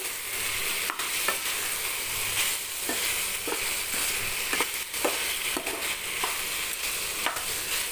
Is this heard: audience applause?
no